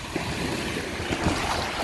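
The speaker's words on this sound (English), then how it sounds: "I don't know what stirred these waves up. I guess it was that speeding boat that went by." Waves stirred up by a speeding boat's wake wash against the river access shore, a steady broadband rush of lapping water with gusty wind noise throughout.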